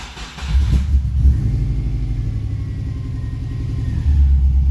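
Subaru Impreza with a long-cranking fault, its engine rumbling and turning over continuously at close range with steady low pulsing throughout, no voices.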